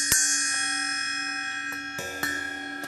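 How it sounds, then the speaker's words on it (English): A Meinl Classics power bell, 8 inch, on a drum kit is struck several times, each hit a bright metallic clang with long ringing overtones that decay slowly between strikes. "it's actually the classic series, but it's a power bell"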